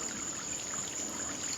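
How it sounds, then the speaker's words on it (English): Water splashes and trickles steadily from a 5.5W AISITIN solar fountain into a pot, a close, continuous pouring sound with a faint high electronic whine and no talking. "You see the water is coming out."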